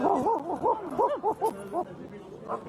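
Several dogs bark and yip in a quick run of short calls, fairly close, then fade to a softer call near the end, with talk-like murmur underneath.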